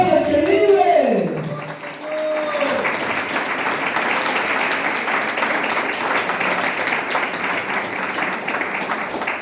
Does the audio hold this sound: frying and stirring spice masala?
no